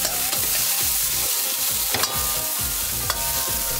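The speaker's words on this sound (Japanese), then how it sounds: "さっと混ぜ合わせて炒める。" Minced meat and chopped green onion sizzle loudly as they are stir-fried for mapo tofu, a dense continuous hiss cut by several sharp scrapes of a spatula against the pan.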